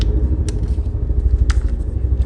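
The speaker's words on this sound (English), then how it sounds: "If you hear that, that is a helicopter going overhead." A low, steady helicopter rotor rumble throbs in the background as it flies overhead, with a couple of brief clicks on top and no talking.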